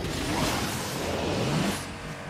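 The Koenigsegg Jesko hypercar races in Asphalt 9: Legends with a loud, continuous engine roar and rushing wind that sweep in pitch, then fade slightly at the end, with no talk.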